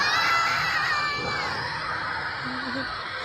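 A young child screams in a long, high, strained wail near the microphone at a dinosaur park, with a noisy crowd murmur and other voices behind it.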